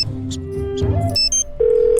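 Cell phone dialing in a Nancy Drew adventure game: a short run of electronic keypad tones and beeps, steady tonal notes stepping up in pitch, clear and close with no talking.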